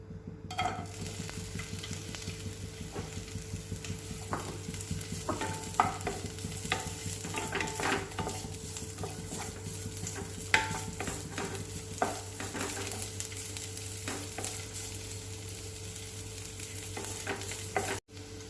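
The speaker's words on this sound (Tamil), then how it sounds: "இந்த திராட்சையை மட்டும் கொஞ்சம் வறுத்து எடுத்துக்கலாம். கொஞ்சம் நெய் போட்டுக்கலாம்." Raisins roasting in ghee in a kadai, a soft steady sizzle with occasional light scrapes and clicks of a spoon, close and even throughout, no one speaking.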